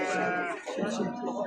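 Sheep bleat at an Azerbaijani livestock market in Maştağa, where goats are also sold, a close, steady, loud call that ends and is followed by more bleating and crowd noise.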